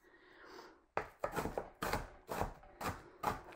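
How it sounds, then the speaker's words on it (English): Rough chopping of food with a kitchen knife on a board, a run of about seven distinct, close knocks with the heel of the blade coming at a steady pace after a quiet start, without talk. "you just drop the heel of the knife down. And this is just rough chopping."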